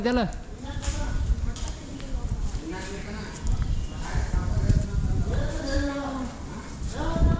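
Horse hooves clip-clop in a steady, uneven patter beneath continuous talking, with the bustle of a crowd around them.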